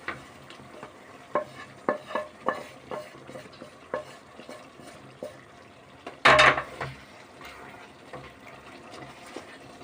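Chicken parts with ghee are sautéed and stirred in a pan, giving a soft, close sizzle under repeated scraping stirs, with one louder clatter or splash partway through.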